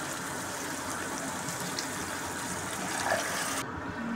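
Water poured into a hot pan of frying peas masala for a turnip and peas dish, giving a steady, close hiss and gush that runs for several seconds with no talk.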